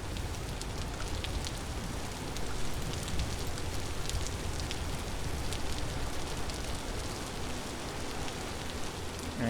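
Rain falls in the Vintage Story video game as a dense, steady hiss of drops, constant and even throughout with no talk.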